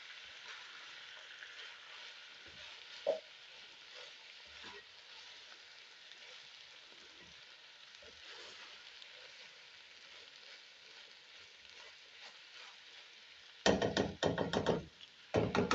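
Tomatoes stirred into keema frying in a pan give a soft continuous sizzle with occasional spoon knocks, ending in a louder burst of scraping and clattering stirs.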